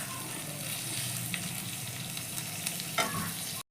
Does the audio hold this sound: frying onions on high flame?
yes